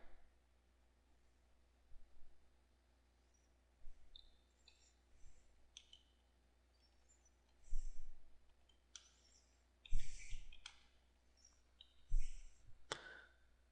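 A computer mouse clicks sparsely in a quiet room, with about half a dozen short, faint clicks spaced a couple of seconds apart.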